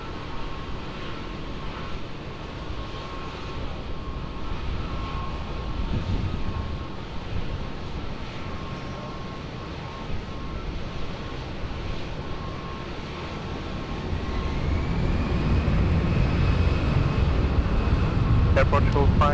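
Airliner engines rumble steadily at Lisbon Airport, a broad continuous roar that swells louder toward the end as a plane nears, with a faint radio voice at times.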